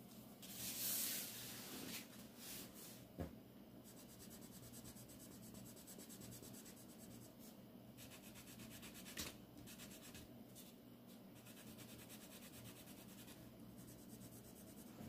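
Steady scratchy rubbing of a Derwent metallic pencil colouring on paper under heavy pressure, close and quiet, with continuous strokes and brief pauses, no voices.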